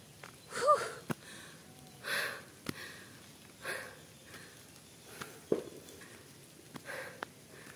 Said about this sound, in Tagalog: Talaga naman pong hingal kabayo kami.